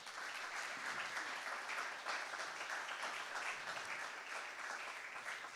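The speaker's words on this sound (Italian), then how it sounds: "Intanto un bel applauso, prego." An audience at a Venice-area food excellence event applauds steadily, a faint, even wash of many hands clapping throughout with no voices over it.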